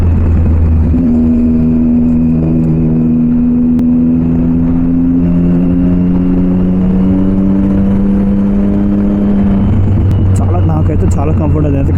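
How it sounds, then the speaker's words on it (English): A Triumph Street Triple 675 inline three-cylinder motorcycle with a loud SC Project exhaust drones and rises in pitch as it revs under steady riding. The engine stays loud and close throughout, and someone talks over it. "మీకు అసలు ఎంత వినబడుతుంది నాకు తెలియదు, ఎందుకంటే exhaust is fucking loud bro"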